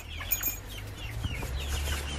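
Chickens clucking softly inside a chicken tractor on a snowy spring day, scattered short calls over a steady low background hum, with no talking.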